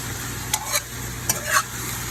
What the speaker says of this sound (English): we're gonna kind of like stir fry the fish. Like just stir frying it and frying it.